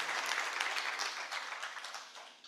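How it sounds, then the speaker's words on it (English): A round of applause from a conference audience at a high-level stakeholders' meeting on constitutional and electoral reforms, dense steady clapping that fills the room and tapers off slightly toward the end. "can we give another big round of applause to Honorable"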